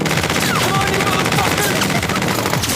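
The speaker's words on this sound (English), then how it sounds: "gunfire erupted from the mountains. A hail of bullets rained down on the camp" A hail of bullets in a military outpost battle scene, with continuous dense gunfire from many weapons and loud overlapping crackling shots.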